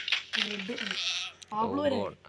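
Two short, close bleats in quick succession from a sheep in Minecraft, the second longer and wavering, with a faint click between them.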